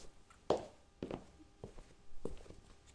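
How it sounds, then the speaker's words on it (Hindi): Slow footsteps, four or five soft treads spaced about half a second apart, each with a faint metallic jingle as of an ankle bracelet, close and quiet in an otherwise still space. "जैसे जैसे पैरों की आवाज के साथ पायल की आवाज आ रही थी"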